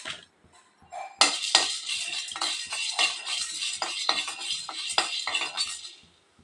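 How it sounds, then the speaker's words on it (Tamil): Peanuts roasted dry in a hot kadai, stirred with a metal spoon, giving a dense rattle of nuts and repeated scraping clanks against the pan, close and continuous after a brief quiet start, with no talk. "இப்போ வந்து நம்ம வேர்க்கடலையை வறுத்து எடுத்துக்கலாம்."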